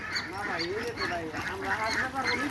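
Pekin ducks on a farm quack and honk in a steady, busy chorus, with people talking over the birds throughout.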